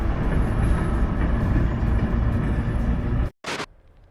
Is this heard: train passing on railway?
yes